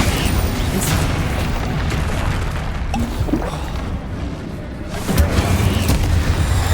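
Bombarda spell explosions in the video game Hogwarts Legacy, a dense run of loud booming blasts and crashes, layered and continuous with a fresh heavy burst near the end.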